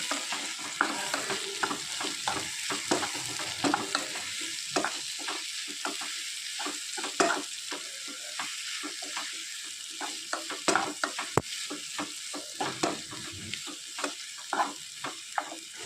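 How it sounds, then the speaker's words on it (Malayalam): Chopped ripe nendran plantain sautés in a pan for banana payasam, giving a bright, continuous sizzle with a busy rhythm of stirring clicks and scrapes close by, with no voices. "അരിഞ്ഞു വെച്ചിരിക്കുന്ന നേന്ത്രപ്പഴം കൂടെ ഇതിലേക്ക് ചേർത്ത് കൊടുക്കാം അതൊന്ന് നന്നായിട്ടൊന്ന് വഴന്ന് വരുന്നവരെ വെയിറ്റ് ചെയ്യണം"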